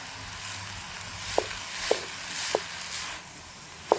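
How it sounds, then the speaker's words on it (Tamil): Noodles stirred in a pan with a ladle handle: a low sizzle throughout, broken by four sharp knocks of the handle against the pan at uneven intervals, with no voices. "நூடுல்ஸை சேர்த்துட்டு நான் இந்த அகப்ப காம்பால் கிண்டி விட போகிறேன்."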